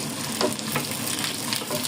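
Food being stirred as it fries in mustard oil, a dense close sizzle with soft scraping strokes of the spoon running throughout, no talking.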